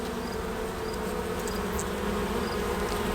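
Honeybees buzzing at a hive being smoked with pine needles, a dense, continuous close hum of many bees, steady and fairly loud with no talking.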